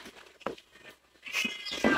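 Cats crowding near fried fish at a breakfast of daing, longganisa and eggs give short, close meows, one sharp cry early on and more overlapping mewing toward the end, with quiet gaps between.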